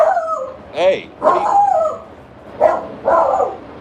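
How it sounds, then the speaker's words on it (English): A dog barks and yowls nearby in several separate bursts, with a person briefly calling out between them. "what are you barking at?"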